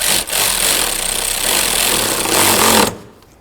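A power tool runs in one loud sustained whir for about three seconds while snugging radiator mounting bolts on a 2004-08 Ford F-150, then stops abruptly into near quiet.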